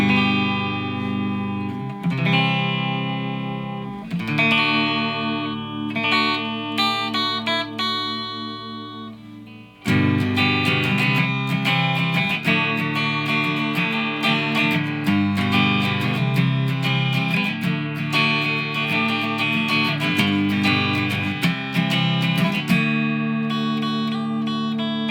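SG electric guitar with both mini humbuckers together in the middle position, volumes near 5 and tones near 7, playing ringing chords and riff phrases, loud and sustained, with a brief pause before a fuller strummed section; no talk.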